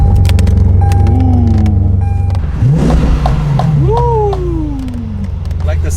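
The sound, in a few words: Lamborghini Aventador with aftermarket exhaust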